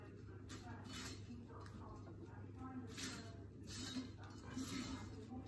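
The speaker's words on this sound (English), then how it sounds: "I'm just going to mix that up gently" Salt and desiccated coconut being gently mixed in a bowl, soft scraping and light clinking strokes repeating at a steady pace, quiet and close under low background hum.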